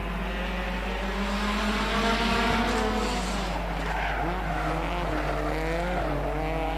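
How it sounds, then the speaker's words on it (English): Stock cars racing on a gravel track at a regional race, with a constant loud engine drone and rising, wavering tire squeal as the cars slide through the bends, continuous and close throughout. "Squealing of tires on the gravel."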